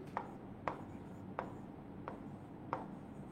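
Five sharp chalk strokes tap and scrape on a board at a steady, spaced rhythm while an English grammar lesson is taught, close and fairly quiet with no talking.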